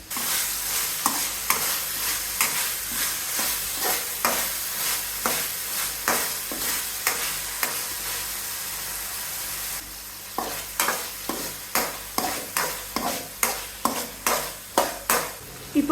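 Prawn thokku masala, Tamil Nadu style, sizzles in a pan while a spoon stirs it in steady repeated scraping strokes, close and clear, with no talking.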